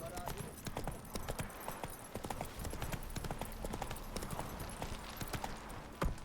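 A horse gallops in The Witcher 3 video game, with rapid, continuous hoof clip-clops at moderate loudness and a faint voice underneath.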